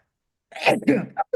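A single short sneeze bursts out after a brief silence, close and sharp, followed by a quick breathy catch.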